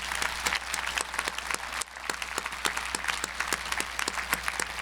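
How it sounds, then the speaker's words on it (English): A university commencement audience claps in a steady, dense round of applause, a large crowd with distinct nearby claps popping out over the wash. "Let's give them all a big round of applause."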